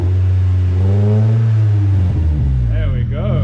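A Honda Del Sol with a newly fitted exhaust idles with a loud, deep drone, then revs up twice in quick rising swells, close and powerful, with voices partly over it.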